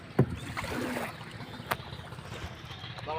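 A boat moves across water near Nayamati, a steady wash of water and wind noise with a sharp knock early on and another soft thump midway, fairly close.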